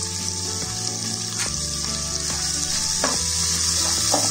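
Sliced onions and cashews frying with salt in a pan for biryani, a loud continuous sizzle up close with occasional stirring clatter and scrapes, no voices.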